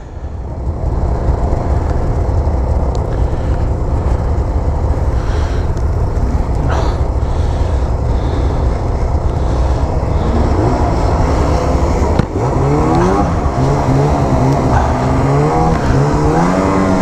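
A 2020 Arctic Cat Riot snowmobile on a track, its engine droning loud and close throughout, with the pitch rising and falling as it revs and accelerates toward the end.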